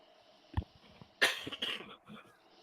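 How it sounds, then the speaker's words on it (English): A podcast host gives a couple of harsh coughs close to the mic, a short sharp bark followed by a louder fuller burst and rough throat-clearing trailing off in a quiet room. "I need to cough."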